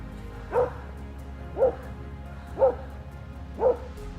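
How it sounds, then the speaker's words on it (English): A stray dog gives four evenly spaced short yelps or barks about a second apart, moderately loud over a steady low background hum, with no talking. "pouncing on the stray dog, making it whimper and bark in pain"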